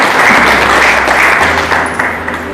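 An audience claps together at a Hindi church gathering praising the Lord, a dense, loud burst of applause lasting a couple of seconds with no voices over it.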